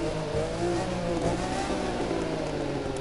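Sports car engines revving and roaring steadily in The Crew 2 racing game, a Lamborghini Veneno or Pagani Zonda at speed, loud and continuous with a sustained droning tone throughout.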